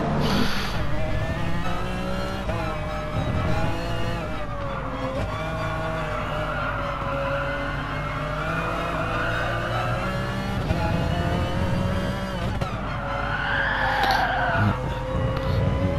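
Race cars driving the Catalunya circuit in a racing game, a steady loud drone of engines with tyre squeal and a rising whine near the end, running continuously without pause.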